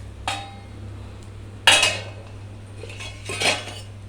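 A hot omelette is slid from the pan onto a plate with three sharp metallic clinks and scrapes of utensil against cookware, spaced apart over quiet kitchen background hum.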